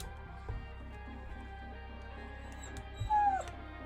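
A small dog whimpers and fusses indoors, thin high whines rising near the end over a quiet background hum, fairly soft overall.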